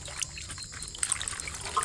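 Water trickling and pouring while pechay cabbage is washed by hand, a soft, steady liquid wash with faint splashes, close but quiet, with no talking.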